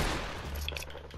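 Gunfire in the Fortnite video game, a short loud burst of blasts that quickly fades, heard alone with no talking.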